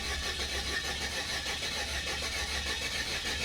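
A car engine that has sat unused cranks and churns steadily, a continuous mid-pitched rumble throughout, close and fairly loud with no talk.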